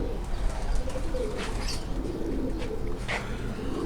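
A breeder pigeon at a home loft coos softly in a few low, rolling calls, near and moderately faint, with a little background murmur.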